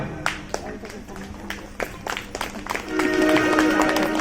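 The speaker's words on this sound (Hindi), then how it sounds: "सभी लोग तालियों की सेवा करेंगे प्रेम और भाव से।" An audience clapping during a bhajan kirtan at a Bhagavat Katha gathering, a run of scattered hand claps that builds into fuller group applause, with voices in the crowd.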